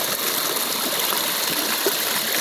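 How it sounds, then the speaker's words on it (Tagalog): River water rushes steadily at the Laya River in Candulawan, Talisay City, Cebu, a loud, close, continuous wash of flowing current with no talking. "Ayan ka tubig, oh."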